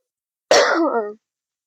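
A single short, raspy cough from a girl who is ill, close and fairly loud, trailing off into a throaty rasp with no speech around it.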